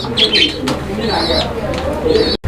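A pair of racer pigeons coo at a pigeon farm, soft throaty calls mixed with chirps and a brief flutter, close and fairly loud, with background noise throughout.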